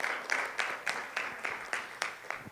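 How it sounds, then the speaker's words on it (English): Hands clap at a Pathshala orientation gathering, applauding the parents; about nine evenly spaced claps land in a steady rhythm, faint and slightly distant, with no other sound prominent. "A big hand of applause to all the parents for that."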